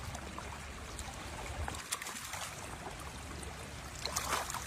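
Flood water flows and drains in a steady, faint rushing wash, with brief splashy bursts toward the end and no talk.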